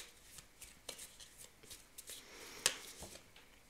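Tarot cards being shuffled by hand, close and quiet, with a run of soft riffling flutters and one sharper snap of the deck near the end.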